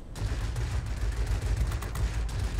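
Rapid bursts of aircraft machine-gun fire from an I-260 fighter in World of Warplanes, loud and close, crackling continuously with sharp repeated reports over a droning engine.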